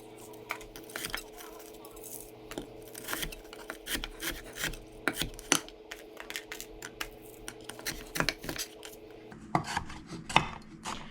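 Defrosted leftover turkey, white and dark meat, cut on a board with a knife, giving a run of close scraping, tapping knife strokes in an uneven rhythm, busier near the end.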